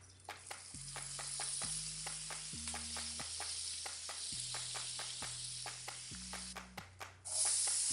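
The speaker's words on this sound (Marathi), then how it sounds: "पॅन आपला गरम झालाय, आता आपण त्याच्यामध्ये बटर टाकूया।" Butter sizzles in a hot pan on a stove, a steady close frying hiss with faint ticking stirs. A low electronic tone shifts in pitch underneath, and the sizzle swells near the end.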